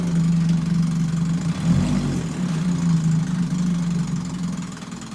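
A 1956 Johnson 5.5 hp outboard motor runs steadily in a test tank on a 16:1 fuel mix, giving a continuous, close, loud two-stroke drone with a brief surge near the middle and no talking.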